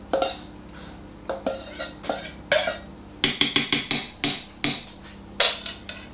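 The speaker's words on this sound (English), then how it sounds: "the next thing and the final thing to do is to stir in 75 grams of crème fraîche" A spoon stirring crème fraîche into a cider chicken casserole in a pot, with a string of sharp metallic clinks and knocks in an irregular rhythm, some in quick clusters.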